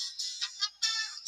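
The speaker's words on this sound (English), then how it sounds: "no one else has that ringtone in a store, so I always know it's me" A mobile phone ringtone goes off in a store, a bright electronic melody of repeated high tones in uneven bursts, fairly loud and alone with no talking.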